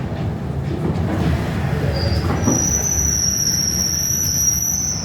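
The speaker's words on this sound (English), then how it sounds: "I'm standing at the Providence train station." Train at the Providence train station in cold weather, heard from a doorway: a steady low rumble of rail traffic with a long, thin high wheel squeal rising midway and holding to the end, no talk.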